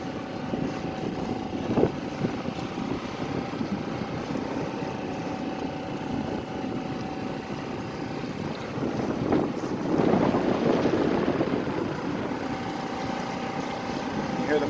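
A small 4hp outboard motor on a boat running through waves, a steady drone that swells louder as the hull surges, mixed with wind buffeting the microphone and water rushing.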